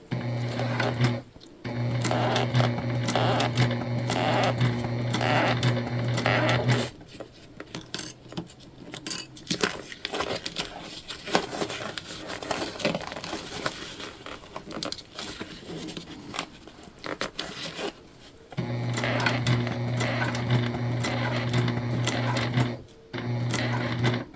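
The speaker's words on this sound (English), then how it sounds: "we're pivoting back down now, which means we're on the last part of our top stitch" Sewing machine top stitching a shoulder bag runs loud and close in steady fast bursts, pausing mid-seam for a pivot with softer handling noises before stitching resumes at full speed.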